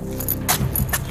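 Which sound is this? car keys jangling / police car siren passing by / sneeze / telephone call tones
car keys jangling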